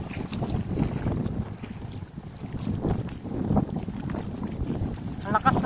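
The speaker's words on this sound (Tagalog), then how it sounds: "Ang lakas talaga ng hangin kasi." Strong wind at sea roars across a small fishing boat, a steady broadband rush and buffeting against the microphone that lasts throughout, with rougher gusts near the end.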